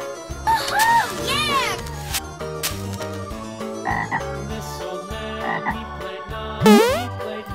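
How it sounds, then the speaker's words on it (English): Frog croaking sounds out in several bursts, some rising and warbling, over light, bouncy children's music. "Green frog."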